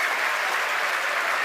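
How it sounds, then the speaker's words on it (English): A crowd at SpaceX headquarters in Hawthorne cheers and applauds during a Falcon 9 first-stage landing on a drone ship, a dense, steady roar of clapping and cheering with no pauses. "The crowd's going nuts here at Spacex headquarters in Hawthorne."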